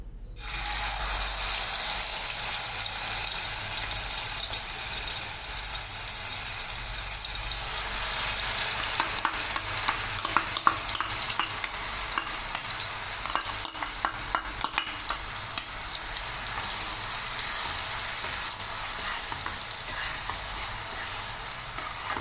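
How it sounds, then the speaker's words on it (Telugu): Ground onion-chili paste sizzles steadily in hot oil in a pan while being stirred, a continuous close frying hiss with scraping that runs through the whole stretch with no talk. "ఉల్లికారం ఉంది కదా, దాన్ని కూడా ఆయిల్లో వేసి ఫ్రై చేసుకుందాం"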